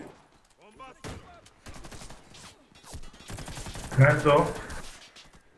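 Bursts of gunfire in the Warface video game crack out in quick volleys, loudest near the end, while players talk over team chat between and across the shots.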